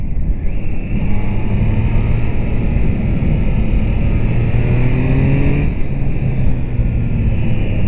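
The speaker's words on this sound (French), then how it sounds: "il va bien ce petit moteur, à partir de 5000 ça commence à bien tracter" A Triumph Trident 660 three-cylinder motorcycle engine revs loud and close as the rider accelerates, with a steady rising whine, a brief dip at a gear change and a continued climb.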